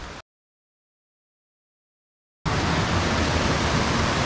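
Creek water rushing steadily during a backpacking trip in the Quehanna Wild, a dense broadband wash that cuts in abruptly after a short burst and long gap, then runs loud and even without talk.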